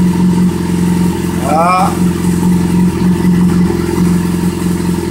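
A Yamaha FZ6 motorcycle engine idles loudly during carburetor synchronisation, with one quick rising blip of the throttle in the middle; a voice speaks briefly.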